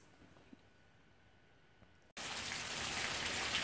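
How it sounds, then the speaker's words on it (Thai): Rain falls steadily outdoors, at first faint and then suddenly much louder and denser as a close, continuous wash of drops, with no one talking. "ฝนตกพี่น้อง"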